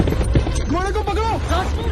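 Horse hooves clip-clopping in a steady rhythm, partly masked by overlapping voices and tonal vocal sounds throughout.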